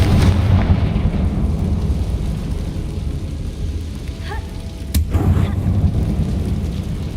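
A Confringo fire spell explodes in Hogwarts Legacy, a sharp blast over a dense, rumbling game soundscape that resembles thunder and rain, with a sudden burst near the end.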